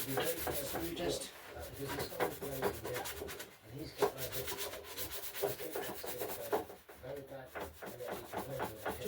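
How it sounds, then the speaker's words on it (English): A fine-grit foam sanding pad scrubs a shiny surface in quick, rhythmic back-and-forth strokes, close and fairly quiet, with brief pauses between bursts. "I've actually got this foam pad. This is a bit of a finer grit."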